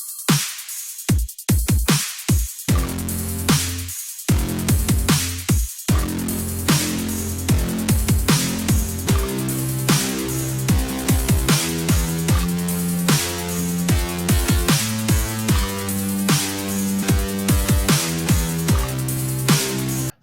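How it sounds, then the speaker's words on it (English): Synthesized distorted, amplified guitar patch built on a modular synth plays a steady riff of sustained, harmonically rich chords and notes, loud and continuous after a few sharp opening stabs. "we are going to make a very versatile, amplified, distorted guitar"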